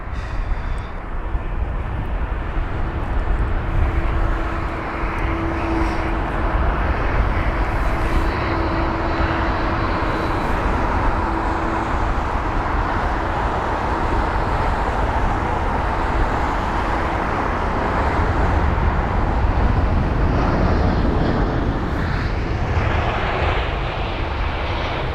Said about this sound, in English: Probably going to be replaced with the A320 Neos very, very soon. But here it is, the A320.